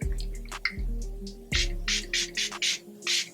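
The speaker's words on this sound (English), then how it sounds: "This is the One Size Powder Melt setting spray" A One/Size Powder Melt setting spray fired from its atomizer gives several short, close hissing bursts in quick succession, following a few soft low tones at the start.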